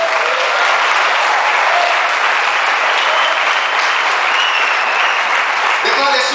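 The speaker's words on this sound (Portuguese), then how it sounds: "Quantos podem aplaudir ao Senhor por esse amor?" A church congregation breaks into loud, sustained applause that fills the room evenly, a dense wash of many clapping hands that fades slightly at the end.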